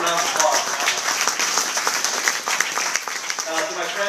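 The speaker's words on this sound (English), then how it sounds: "give yourselves a round of applause" A crowd of firefighters from Number 5 Fire claps for themselves at an evening gathering, a continuous ripple of applause mixed with voices and some talking.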